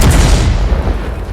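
A heavy, booming cannon blast from the A-20 tank's autoloader gun in World of Tanks, loud and close with a deep rumbling tail filling the short moment.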